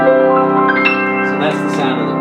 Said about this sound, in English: that's the sound of the piano